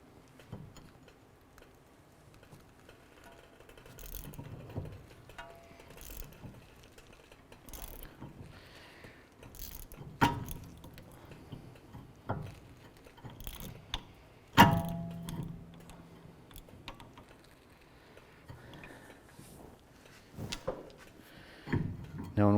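A hand tool spinning a rear brake caliper piston back in on a 2008-2012 Honda Accord, giving faint, irregular ratcheting clicks and metallic knocks with some louder clanks, under quiet surroundings.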